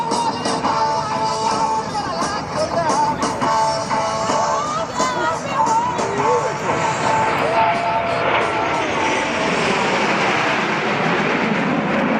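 Four Blue Angels jets in tight Diamond formation passing at an airshow in New Orleans, a continuous loud engine roar filling the whole span and shifting in pitch toward the end, with an announcer's voice over it.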